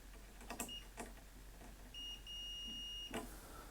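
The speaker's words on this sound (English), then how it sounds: "So I have my meter hooked up in the continuity testing mode." A multimeter in continuity mode gives one steady electronic beep lasting about a second as its probes touch a good fuse from a Philips PM3214 oscilloscope, preceded and followed by faint probe clicks in a quiet room.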